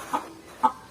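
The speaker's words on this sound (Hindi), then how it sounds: "और इस घर में एक मुर्गी भी है।" A hen at a house in India gives three short, close clucks in quick succession, the last two nearly back to back.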